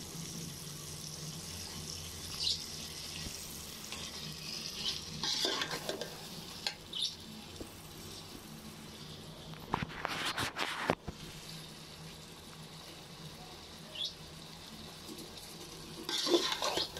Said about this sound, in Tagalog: Itotosta ko muna bago siya lagyan ng tubig.